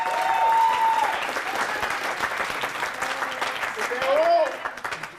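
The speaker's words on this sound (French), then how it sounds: "Je pense qu'on peut donner une bonne main d'applaudissement aux deux équipes." An improv show audience applauds both teams with steady, dense clapping and a few cheers, sustained from start to finish at moderate distance.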